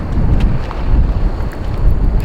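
Strong wind roars and buffets across an outdoor disc golf course, a loud, continuous low rumble of gusts battering close by with no other sounds.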